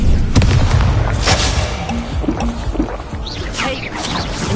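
Incendio and Confringo spell blasts in the Hogwarts Legacy video game, heavy booming hits and crackling bursts over a dense, loud battle din, a few sharp impacts standing out.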